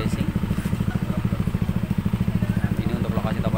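A Yamaha NMAX scooter engine with an aftermarket F2 Racing titanium exhaust runs with a rapid, throaty pulsing exhaust note, loud and close, steady throughout.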